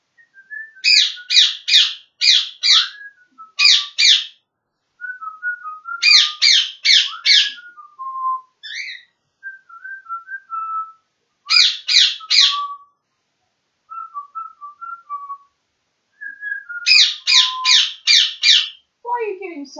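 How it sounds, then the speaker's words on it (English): An agitated bird repeatedly lets out loud, harsh clusters of rasping squawks, broken up by softer whistled notes in between, with short pauses between bursts and no talking. "Mad bloody bird."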